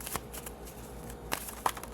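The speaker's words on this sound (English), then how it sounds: "Let's shuffle and play and see what comes our way." A Synchronicity oracle card deck being shuffled indoors, giving soft papery riffles and a few sharper flicks and snaps of cards, close and fairly quiet, with no talking.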